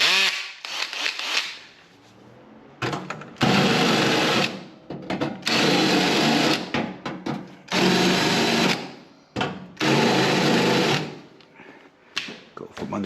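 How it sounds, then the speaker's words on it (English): A small power tool deburrs a part of a Leed Brakes Black Bandit Series vacuum pump for a Chevelle SS, running in loud whirring bursts of a second or two separated by brief pauses and clicks. "All right, put all those back. Let's deburr it."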